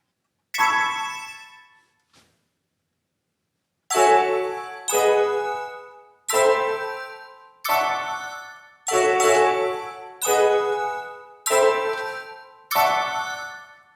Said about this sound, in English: some nice bells